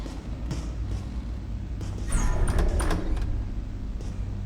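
A door opening in a video game, a sliding mechanical rush with clattering bursts building in the middle of the clip over a steady low background hum.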